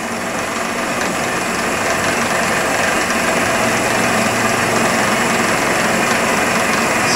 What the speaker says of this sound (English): The good old Johnson Model J horizontal bandsaw.